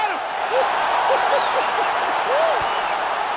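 A large crowd cheering and roaring steadily after a knockout ends a fight, a dense sustained wall of arena noise with faint whistles rising through it.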